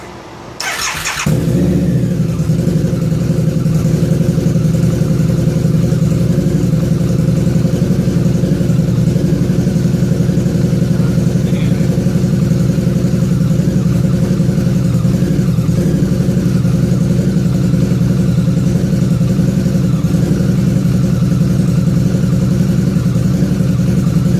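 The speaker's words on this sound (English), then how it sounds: "So let's run this bike." Harley-Davidson V-Rod motorcycle engine starting with a brief crank, then idling steadily and loudly close by for a long stretch, with no talking.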